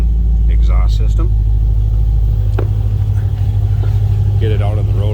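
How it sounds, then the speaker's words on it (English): A 2010 Chevrolet Camaro SS with an SLP ZL575 exhaust idles close by with a deep, steady rumble while people talk over it. "Just a very nice sounding exhaust system."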